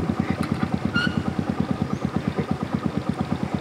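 A motorcycle engine running steadily nearby on a mountain trail in South Sulawesi, its regular low pulsing chug loud and continuous.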